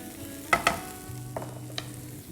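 Baby corn, carrots and American corn tossed in a pan: two sharp clanks of a utensil, then a few softer scrapes over a quiet background hum, brief and fairly faint with no talking.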